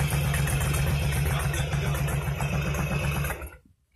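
A motorcycle fitted with baffle inserts idles steadily with a low, loud, rhythmic exhaust burble for about three and a half seconds, then is switched off and falls quiet.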